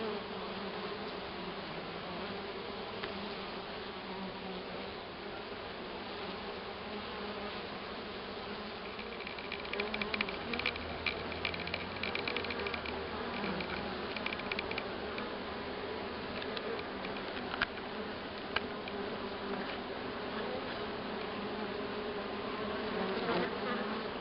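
Honeybees hum inside a beehive, a dense continuous buzzing drone that stays soft and even throughout, with slightly busier moments in the middle and no voices.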